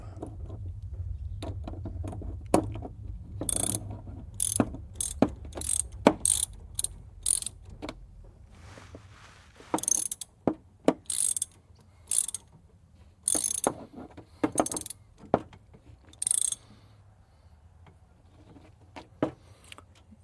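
Ratchet wrench tightening the pitman arm nut on a 1996 Chevy K2500 truck, heard as bursts of quick clicking strokes, close and fairly loud, separated by brief pauses over a low background hum, with no talking.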